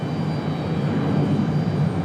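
American Airlines flight 2400 departing from a runway at Raleigh-Durham International Airport, a loud steady jet engine roar with broad rumble, heard alone without talk.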